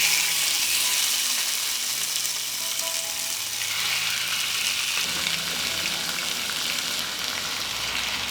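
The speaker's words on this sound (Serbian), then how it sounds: "Ulje se zagrejalo i spuštam papriku na ulje." Bell peppers fry in about 100 ml of hot oil in a deep pan, giving a loud, steady sizzle and crackle throughout. The hiss shifts slightly as the peppers settle, and no one speaks.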